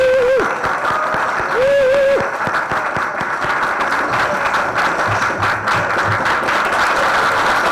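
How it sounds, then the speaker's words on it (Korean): Audience applause at an AIDS day seminar welcomes a speaker, a sustained, even wash of many hands clapping, moderately loud, with a few brief sung or voiced tones near the start. "큰 박수로 맞이해주시면 감사하겠습니다"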